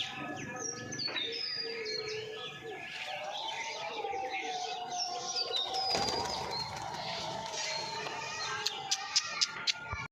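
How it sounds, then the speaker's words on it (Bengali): Native pigeons coo in low, repeated rolling calls close by, mixed with faint chirps from other birds and light background rustle, a few sharp clicks near the end. "এটা এই কবুতরটা, এটা লাস্টে নেমেছে একদম, দেখতে পাচ্ছেন, দেশি কবুতর এটা।"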